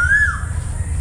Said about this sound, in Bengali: কোকিলের ডাক।